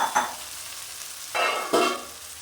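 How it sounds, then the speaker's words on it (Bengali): Pre-fried raw jackfruit goes into a hot pan and is stirred, bringing a few close bursts of sizzling and scraping over a soft, steady frying hiss. "ভেজে রাখা এঁচোড় দিয়ে দিলাম"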